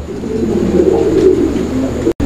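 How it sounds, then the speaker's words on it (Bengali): A domestic pigeon coos close by in a steady, low rolling call lasting a couple of seconds, with no one speaking. "দেখেন কবুতরের ডাক দেখছেন, একদম ভরপুর ডাকের কবুতর"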